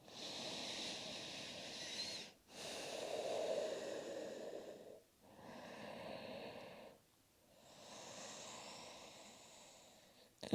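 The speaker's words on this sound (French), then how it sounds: "Quelques respirations ici aussi." Slow, deep breaths during a yoga exercise, several long soft hissing inhales and exhales with brief pauses between, close and quiet.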